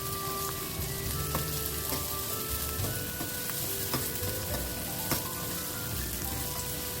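Onions fry in hot oil for kaleji masala with a steady close crackling sizzle and scattered sharp pops, alone and even throughout.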